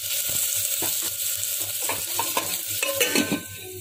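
Amaranth leaves sizzle and crackle loudly in hot tempering oil in a pan, a steady frying hiss with scattered pops and the scrape of stirring, no voices.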